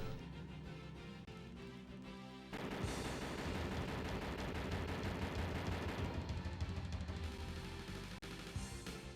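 Rapid gunfire in The Terminator on Sega CD, dense repeated shots layered over game music, steady and loud throughout with a sharper burst midway.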